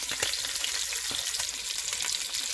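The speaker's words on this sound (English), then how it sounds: "throw in the rest of your oxtail to brown" Oxtail pieces brown in hot oil in a pan, giving a steady, close sizzle with crackling pops and occasional stirring scrapes, with no talking.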